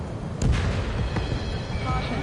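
An explosion destroys a radar vehicle in the combat flight game Ace Combat 7, a dense rumbling blast that swells near half a second and keeps roaring, with game speech over it.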